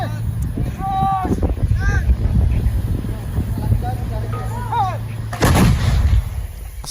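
Artillery cannons firing in a military live-fire exercise in Ilocos, with loud booming blasts and wind buffeting the microphone, while people talk and exclaim nearby.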